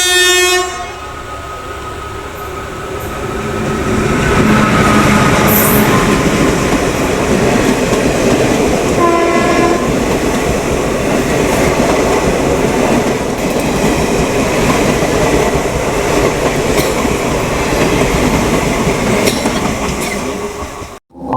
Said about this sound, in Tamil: இப்போ திரும்பவும் ஆலப்பாக்கத்தில் ஆப்போசிட்டில் வர நம்ம கம்பன் எக்ஸ்பிரஸ் கிராசிங்காக ஓரம் கட்டியிருக்காங்க.